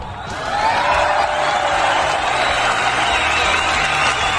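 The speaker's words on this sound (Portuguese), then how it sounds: "Aplausos." Crowd applause and cheering fill the hall at a professional wrestling ring as a wrestler enters, a broad, steady roar that swells within the first second and holds loud and sustained to the end.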